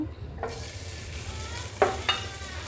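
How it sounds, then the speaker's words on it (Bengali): Nuts tossed into hot ghee in a home kitchen pan give a steady low sizzle, with two sharp stirring clatters near the end and no voices. "এবার একটা প্যানে আমি ঘি গরম করে নিয়েছি এখানে আমি দিয়ে দিচ্ছি আগে থেকে ধুয়ে বেছে রাখা বাদাম"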